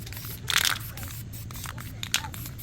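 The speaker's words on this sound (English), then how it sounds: "So go ahead and put a second coat of primer on this." An aerosol can sprays a second coat of primer onto a brake caliper, a short hissing burst followed by a briefer puff, close and clear over low garage hum.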